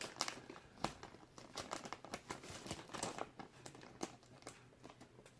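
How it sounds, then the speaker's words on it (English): Crinkly peeling and tearing of a weak warning sticker off the packaging box of a Kotobukiya Harley Quinn ArtFX+ 1/10 scale figure, a steady run of close, sharp crackles and rips with no talking. "the warning sticker, that's just it's pretty weak, so it's hard to just peel that out without ripping it"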